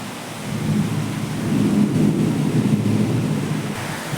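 A heavy downpour roars steadily, with a deep low rumble swelling underneath like distant thunder.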